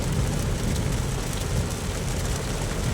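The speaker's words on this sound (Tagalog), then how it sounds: "Lakas ng ulan, no?" Steady heavy rain pours continuously, a dense loud hiss with a deep rumbling undertone and no voices.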